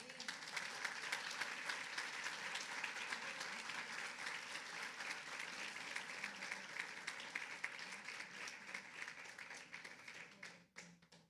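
A church congregation applauds during a Spanish-language sermon, dense sustained clapping from many hands filling the room for about ten seconds, quite faint overall, then thinning and trailing off at the end with no speech over it.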